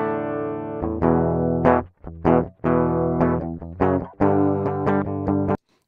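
A direct-input electric guitar recording is played back, with sustained bright chords and single notes that ring, are cut off, and return in short phrases with brief gaps, loud and close with no voices.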